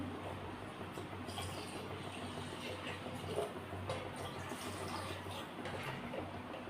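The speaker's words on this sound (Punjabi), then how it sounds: "ਲਓ ਜੀ ਆਪਾਂ ਪਾਣ ਲੱਗਿਆ ਪਾਣੀ ਹੁਣ" Water poured into a pot of rice, a steady soft trickling and splashing that runs continuously and fairly faintly against low background hum.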